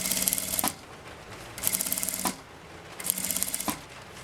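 A sewing machine stitches a zipper onto fabric for a handbag in three close bursts of rapid mechanical clatter, each lasting under a second, separated by short pauses.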